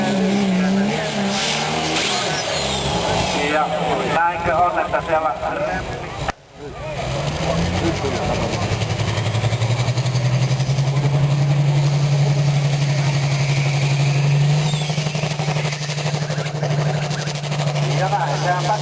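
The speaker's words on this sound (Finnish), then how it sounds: "puolikas Rolls-Royce Meteor-moottori lähtee liikkeelle." Tractor pulling event in Haapajärvi with a pulling tractor powered by half a Rolls-Royce Meteor engine, a loud rough engine that surges, briefly cuts out, then rises into a sustained deep roar, with a commentator talking over it.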